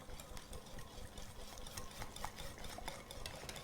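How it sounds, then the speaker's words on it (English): Coconut protein cupcake batter with coconut milk is mixed in a bowl, a continuous soft stirring and scraping with light utensil ticks, close and quiet, with no voices. "And then mix this all together."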